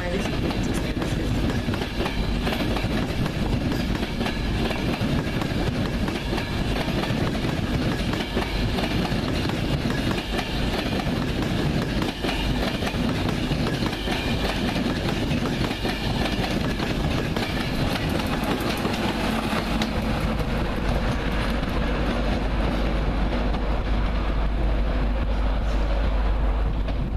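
Steady rumbling train noise at an Edinburgh station platform, with rhythmic clatter of wheels on rails, continuous and close, with faint voices mixed in.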